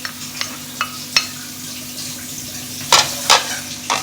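Finely chopped onion goes into a pan while chicken and potato parathas are cooked. A steady sizzle runs throughout, with several clinks of a spoon or spatula stirring against the pan, close up.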